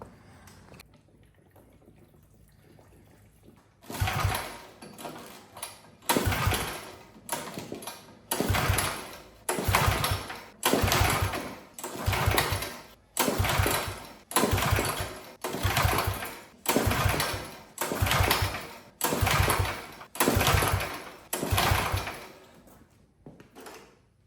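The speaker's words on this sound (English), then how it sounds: "throw some gas in the tank and see if we can get this thing to run now" An old 50-year-old lawn mower engine cranked after fuel is added, a quiet stretch followed by a regular series of loud rhythmic pulls or chugs, about a dozen evenly spaced bursts.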